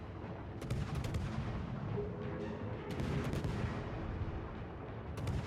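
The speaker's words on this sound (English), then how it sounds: "So we're just going to keep blind firing here." Guns firing blind in a video game: a dense, booming barrage of repeated shots over a heavy continuous rumble, fairly loud and unbroken throughout.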